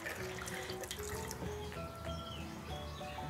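Tap water runs steadily to wet a glitter tattoo, a soft continuous splashing close by with faint drips, no one talking.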